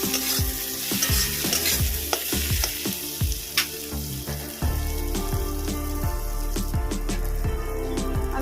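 Chopped onion with chilli powder and turmeric sautéing in a hot pan, a steady close sizzle broken by repeated scrapes and knocks of a spoon stirring, continuous throughout with no talking.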